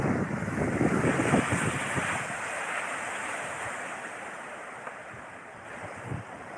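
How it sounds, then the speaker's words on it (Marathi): Ocean surf at Kanyakumari at night: a continuous, loud roar of breaking waves mixed with heavy wind rumble on the microphone, with no voices. "लाटाचा आवाज या खूप मोठा लाटा आहे"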